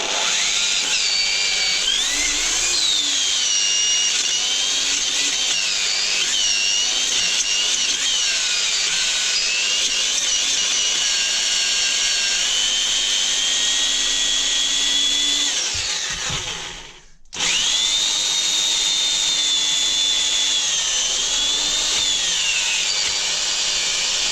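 A power drill whines steadily at high pitch, nearby and loud, drilling holes while a car seat mount on an Ursus C-360-3P tractor is repaired, with a brief stop and restart toward the end.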